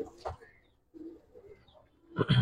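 Pigeons in a loft give soft, low coos, faint and close, with a brief louder flutter of sound near the end.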